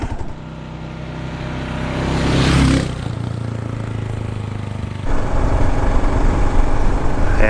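A Kawasaki KLR 650 motorcycle rides on a dirt road with a loud, steady engine drone that swells as it revs, drops back and then settles into a rough, even run, with wind noise over it.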